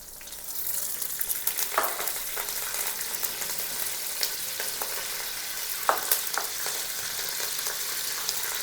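Curry leaves and mustard seeds frying in hot oil for a crab gravy, a dense, continuous crackling sizzle with scattered sharper pops and light stirring, close and loud with no voices.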